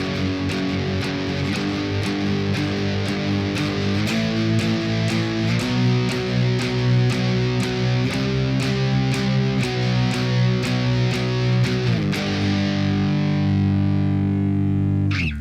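A distorted electric guitar plays a steady chugging pre-chorus riff, chords shifting every couple of seconds over a ticking rhythm, loud and continuous.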